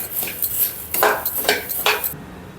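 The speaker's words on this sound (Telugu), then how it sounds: "స్టవ్ వెలిగించి కళాయి పెట్టుకొని ధనియాలు వేద్దాం" Coriander seeds are roasted in a kadai on a stove and stirred with a metal spoon, making several close, sharp scrapes and clinks against the pan in an irregular rhythm.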